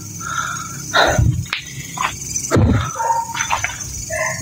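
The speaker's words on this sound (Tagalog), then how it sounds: "Nag-iingay yung aso doon ah." A dog barks several times at a distance, sharp separate yelps spread across the moment over a faint bed of crickets and night insects.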